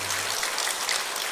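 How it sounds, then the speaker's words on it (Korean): A church congregation applauds to encourage the choir, a dense, steady patter of clapping that holds evenly throughout at moderate volume. "박수로 한번 격려해 주시죠."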